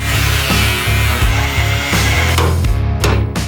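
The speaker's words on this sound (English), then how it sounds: "I'm gonna get this last weld undone" A power saw or cutter grinds loudly and steadily through the last weld on the subframe of a Porsche truck, with a rhythmic pulsing as the blade works through the metal. No one speaks.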